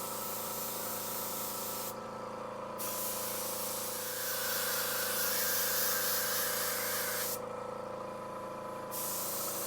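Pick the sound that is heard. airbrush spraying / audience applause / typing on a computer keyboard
airbrush spraying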